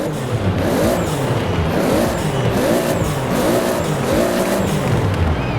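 A Toyota GT86 fitted with a 1,600 hp 2JZ engine revs hard in Forza Horizon 4, the engine note rising and falling in repeated surges over steady loud road and exhaust noise, with no talk.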